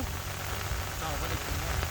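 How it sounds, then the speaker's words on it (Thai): Heavy rain pouring down on a flooded rice paddy during a storm, a dense, even close hiss of drops hitting water and ground throughout. "ฝนก็แรงขึ้นแรงขึ้น"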